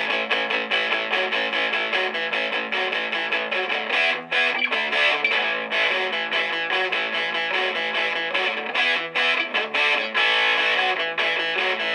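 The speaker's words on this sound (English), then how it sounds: "turbo overdrive." Electric guitar played through the turbo overdrive effect of a Boss ME-80, thick and saturated, sustained chords and riffs with brief choppy breaks, loud and close.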